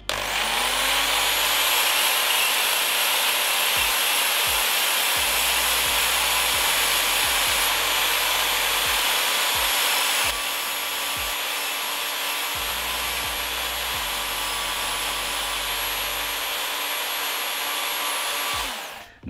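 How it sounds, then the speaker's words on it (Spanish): Steady, loud abrasive rasping of sandpaper on a truck model running continuously for the whole stretch, with a brief dip in level partway through and no voices. "vamos con la lijita"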